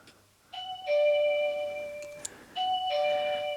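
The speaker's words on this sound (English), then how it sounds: "And that is the doorbell, and there's no one at the door" A wireless doorbell chimes twice indoors, each ring a clear two-tone electronic ding-dong with ringing sustained notes, the second ring coming a couple of seconds after the first, with no voices.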